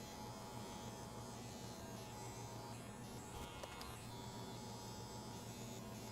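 Electric hair clippers buzzing during a mid drop fade haircut, a steady close mechanical hum with a faint brief click partway through and no voice.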